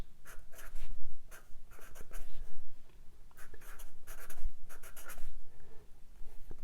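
A pen scratches across paper by hand, writing out a cipher grid in quick, uneven strokes with short pauses between bursts, close and fairly quiet with no talking.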